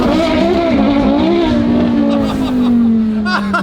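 A turbo Lamborghini rally car revs hard nearby, its engine note rising and falling loudly and then settling into a steady high drone, with voices underneath.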